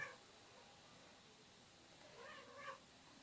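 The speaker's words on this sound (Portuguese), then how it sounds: "É que tem uma gatinha aqui que ela tá com fogo" A cat in heat lets out two faint, drawn-out meows toward the end, somewhat distant, over a quiet hissy background with no talking.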